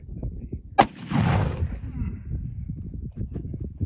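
A single loud, near blast from a .45 Colt revolver, a 7.5-inch-barrel Colt copy firing a 250-grain bullet over black powder, with a brief echoing rumble afterward and a voice talking around it.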